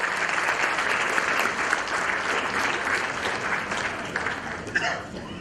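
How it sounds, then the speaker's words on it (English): Full-room applause at an educational merit prize awards ceremony, dense and continuous clapping at moderate level that holds steady and thins slightly toward the end. "Again, a big hand of applause."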